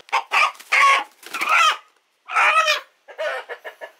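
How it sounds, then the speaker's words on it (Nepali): A rooster in a Nepali village clucks and calls in a series of loud, close, choppy bursts separated by short pauses. "ल दर्शकबिन भाले झ्यापालोमा परिसक्यो"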